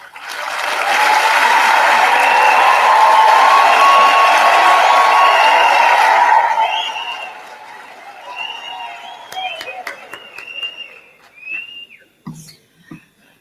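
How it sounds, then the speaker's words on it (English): A large audience at a graduation ceremony bursts into loud, sustained applause with a few whistles, then the clapping fades after about six seconds, leaving scattered whistles and cheers trailing off. "all our graduates deserve another round of applause"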